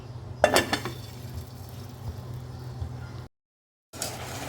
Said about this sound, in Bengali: এবার ঢাকনা দিয়ে ডেকে দেব।